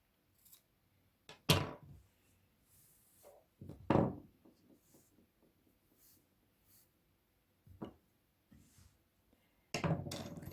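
Scissors snip yarn while a knitted winter hat for a doll is being finished: a few sharp, close snips spaced apart, with soft handling noises between them and no talking.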